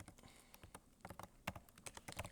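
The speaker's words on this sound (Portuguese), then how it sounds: "Se eu vim aqui digitar" Rapid typing on a computer keyboard: a quick, irregular run of soft keystrokes, quiet and close, with no talking.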